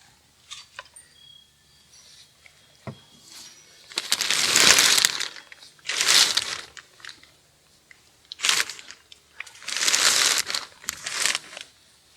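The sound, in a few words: plastic garden tunnel cover being opened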